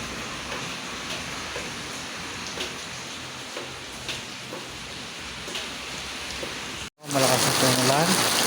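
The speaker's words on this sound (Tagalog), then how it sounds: "Malakas na po yung ulan." Steady, heavy rain hissing continuously, fairly close, then an abrupt cut to a louder, different scene with a voice at the end.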